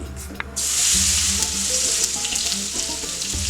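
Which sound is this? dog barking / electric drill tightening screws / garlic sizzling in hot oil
garlic sizzling in hot oil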